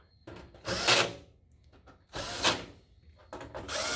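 Power screwdriver tightening screws on a Ricoh MP C4504–C6004 copier's fax unit, heard as three separate loud whirring bursts with short gaps of quiet handling noise between them.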